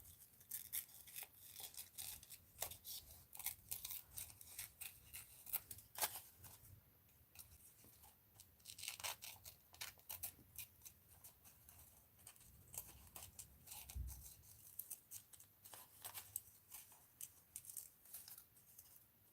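Scissors snipping paper for a mixed media art journal, close and uneven: bursts of crisp cuts and paper rustling, pausing and resuming, with a soft thump partway through.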